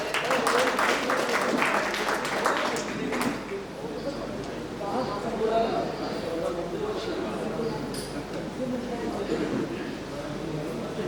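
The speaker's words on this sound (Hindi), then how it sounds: "आप लोग तालियां बजाएं।" Audience applause at a Hindi poetry gathering (kavi sammelan), a dense steady clapping that fills the whole stretch at a constant level, with some voices mixed into the crowd noise.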